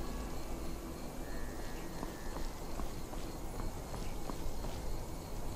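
Horse hooves in the video game Skyrim make faint, steady thuds and clip-clops in an even walking rhythm under a low background wash.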